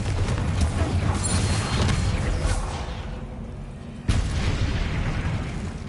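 A Confringo blasting curse goes off in Hogwarts Legacy during a spider fight, a loud, rumbling fiery roar that swells and fades before a second sharp burst cuts in and rolls on to the end.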